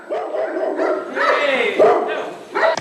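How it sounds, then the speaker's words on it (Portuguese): Dogs bark in several sharp, separate bursts with some higher yips and a whimpering edge, fairly close and loud, with short gaps between the barks. "Cães a ladrar"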